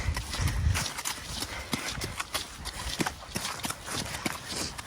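An 8-year-old 149cm Welsh Cob mare clip-clops along as she is led, her hooves striking in a steady, close walking rhythm. A louder low thump comes near the start.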